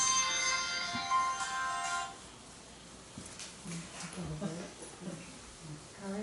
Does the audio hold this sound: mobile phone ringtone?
yes